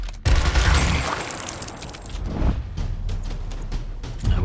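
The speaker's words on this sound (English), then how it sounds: "we can get to the business of opening fire" Gunfire in the Gears Tactics video game opens with a loud blast and a dense roaring burst, then settles into rapid rattling shots that fade and return, with a closing boom.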